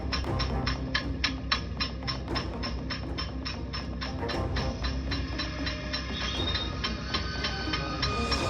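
A train passes a railway crossing in Shandong, China: a continuous loud rumble with a steady run of sharp, evenly spaced wheel clacks over rail joints.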